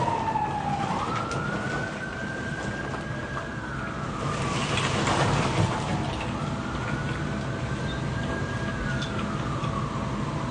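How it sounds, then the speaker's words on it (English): An ambulance siren wails in long rising and falling sweeps, moderately distant, passing over a steady background rumble of traffic; no one speaks. "Y'all hear that ambulance coming for me?"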